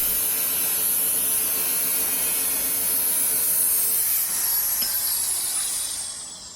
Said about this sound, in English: Cut out excess iron supports.